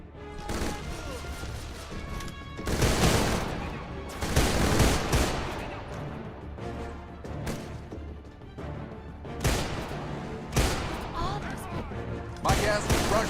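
Armed enemies firing guns in the action game Deadfall Adventures, with loud bursts of gunfire and impacts arriving in several clusters over a dense background of game noise and some speech.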